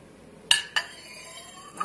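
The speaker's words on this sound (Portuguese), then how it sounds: "Tem as taças, os talheres, os pratos" Wine glasses, cutlery and plates clinking while a Christmas table is set, three bright, ringing clinks of glass and metal over near-silence.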